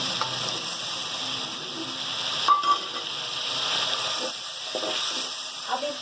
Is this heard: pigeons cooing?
no